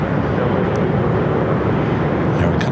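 Airliners take off from runway 24 left at LAX, heard as a steady loud roar of jet engines with broadband rumble throughout and no clear gaps.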